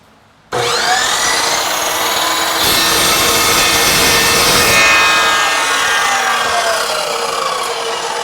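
An EVO380 chop saw cuts through threaded rod with a loud, continuous high-pitched grinding whine that starts abruptly, holds steady for several seconds and shifts in tone partway through.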